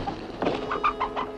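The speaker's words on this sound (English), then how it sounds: "That's a chicken." A few short, clucking chicken calls in quick succession, moderately close, over a quiet room background.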